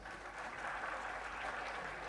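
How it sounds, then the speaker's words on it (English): Audience clapping steadily at the 1996 Sahyog Awards ceremony, a dense, even wash of many hands heard from a slight distance, sustained throughout with no talking. "I have never heard any audience which claps so well as this evening's audience"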